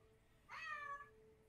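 A single loud, drawn-out cat meow of about half a second rises and falls over quiet background hum, with no talking.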